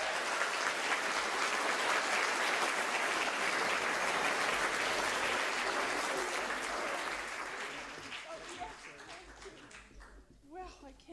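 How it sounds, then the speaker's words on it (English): An audience at a community forum on Islesboro gives a round of applause, loud and sustained for several seconds, then thinning out as it fades and a voice begins speaking over the dying claps. "Let's give her a round of applause."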